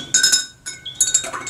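Detergent being stirred into a slime mixture in a container, heard as a series of light, close clinking taps of a utensil against the container in short irregular bursts, with no talking.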